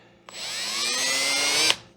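A power drill with a 2 3/4 inch bit bores into a retail store display unit build, a close, loud whirring whine that spins up, holds steady for over a second and stops abruptly.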